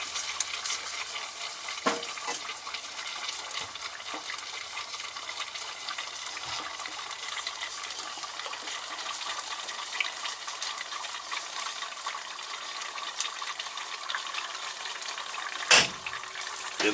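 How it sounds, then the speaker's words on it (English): Liquid nitrogen flows through a watercooled RAM block with a continuous soft hiss and faint bubbling sizzle, steady and close for the whole stretch, broken by a few small knocks. "Ln2 appears to be flowing through."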